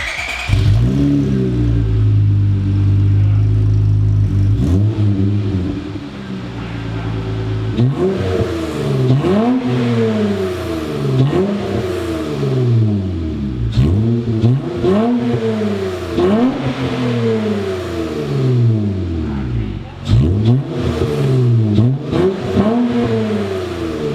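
A Honda car engine revs repeatedly through a custom exhaust with a single resonator, rising and falling in pitch with a deep, smooth exhaust tone, loud and close, with no talking.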